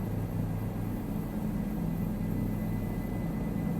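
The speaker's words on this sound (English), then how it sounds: "This thing is one smooth helicopter." Bell 407 helicopter in a flight simulator game, a steady, unbroken engine and rotor drone with a low hum, continuous and even throughout with no talk.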